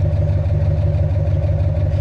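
A worn, high-mileage pickup truck with about 325,000 miles runs steadily at idle, its exhaust giving a loud, even, low rumble that continues without a break.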